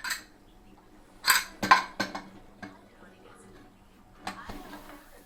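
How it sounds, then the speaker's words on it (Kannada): A metal pressure cooker lid is set in place over boiling fenugreek rice, giving a few sharp clanks and clinks in quick succession, then a pause and one more metallic knock, with no talk. "ಈಗ ಕುಕ್ಕರ್ನ ಮುಚ್ಚಳ ಹಾಕೋಣ"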